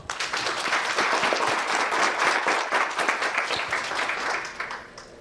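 An audience at a Verizon Wireless panel event on social media and consumer data applauds, with dense, steady clapping that holds loud for about five seconds before thinning out at the end.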